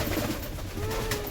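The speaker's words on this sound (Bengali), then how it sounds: "দেখতে পাচ্ছ পায়রাদেরকে খাওয়া দিচ্ছি" Pigeons being fed coo softly in a low, continuous murmur, close by amid general room noise.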